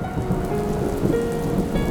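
Steady rain on a surface fills the whole stretch as a dense, even patter, a story sound effect of rain beginning to fall, with no voices.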